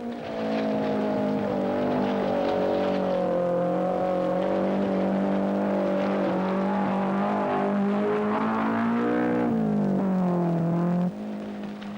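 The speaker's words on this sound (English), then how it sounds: "Harry Shellstrom revs his Datsun Violet through without trouble" A Datsun Violet rally car on the 1976 world rally championship revs steadily through a flooded low-lying road near sisal plantations, a loud continuous engine drone with rising and falling pitch for about eleven seconds before easing off.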